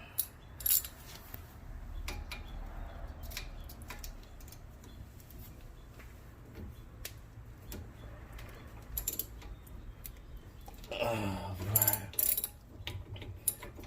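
A ratchet wrench tightens brake bolts on a 2014 Nissan Sentra's front brakes, producing scattered metallic clicks and ratcheting bursts, with a louder, denser stretch of ratcheting near the end against quiet garage background.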